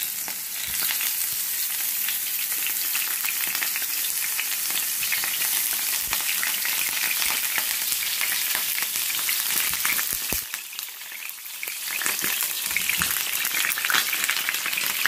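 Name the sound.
sliced eggplant frying in a pan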